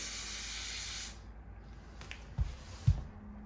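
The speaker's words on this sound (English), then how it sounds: "from here I'm gonna spray" A steady hiss of fixative spray from a can onto a graphite and charcoal drawing lasts about a second, then stops, followed by quiet and a couple of soft knocks.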